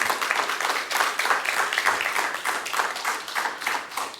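A Spanish-speaking church congregation at an afternoon service applauds the Lord, a dense continuous roar of many clapping hands sustained throughout at a fairly loud, even level.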